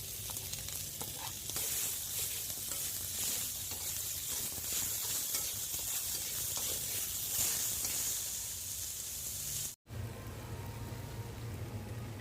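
Chopped onion and garlic sizzle in a frying pan while fish curry is cooked, a dense continuous hiss close by with faint stirring scrapes, cutting out briefly near the end and resuming more quietly.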